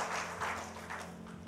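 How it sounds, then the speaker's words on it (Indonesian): A church congregation claps briefly, a soft, blurred patter at moderate distance that sounds muffled and low in level. "Yang mau berikan tepuk tangan buat Tuhan."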